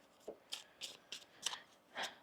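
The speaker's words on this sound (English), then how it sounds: "One more shuffle here." Crisp bursts of shuffling tarot cards, five or six quick riffles in an uneven rhythm, close and fairly quiet with no talking.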